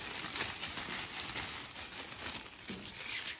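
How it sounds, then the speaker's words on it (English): A sheet of clear cellophane is handled for a heart-shaped craft, giving a faint, continuous crinkling rustle up close with no voice over it. "then we're going to just pop some clear cellophane"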